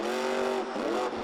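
Race truck engine refiring at a race, a loud, raspy roar close up that rises in pitch, dips, then climbs again, with no talk over it.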